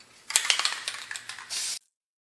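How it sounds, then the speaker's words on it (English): Aerosol spray paint hisses onto the rim of a thrifted Goodwill vase, with a rattly, sputtering burst followed by a short steady hiss that stops abruptly. "I'm gonna go ahead and spray these other two rims"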